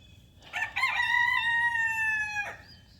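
A single rooster crows loudly nearby, a long stretched cock-a-doodle-doo that rises then trails off, with a quiet background around it.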